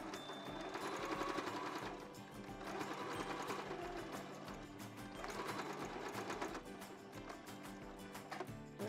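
A sewing machine stitches fabric for a cosmetic bag, running in steady rapid bursts with brief pauses between passes, close and continuous with no talk.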